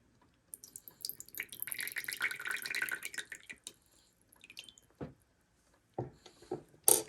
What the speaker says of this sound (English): let us go ahead and pour water